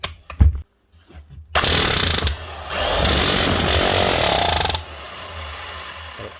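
An old Hitachi DH 38 YE rotary hammer fitted with a chisel rattles loudly in a sustained burst of rapid hammering, then drops back to a quieter running hum.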